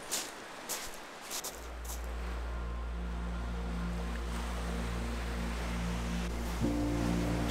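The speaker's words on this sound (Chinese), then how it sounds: "这个海浪打得越来越高" Sea surf breaks at Durdle Door beach under a steady low wind rumble, with a constant droning hum entering after the first second and a few brief knocks near the start.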